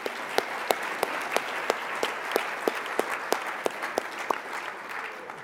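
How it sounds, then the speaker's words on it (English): Applause from an awards banquet audience: steady crowd clapping with sharp individual claps standing out, fairly close and even throughout, no talking over it. "How about a round of applause for Student Life and all the crew here tonight"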